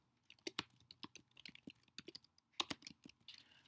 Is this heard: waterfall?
no